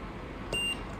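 A Mechanic W08 mini spot welder gives a single short, thin electronic beep over a steady low room hum, fairly faint and alone.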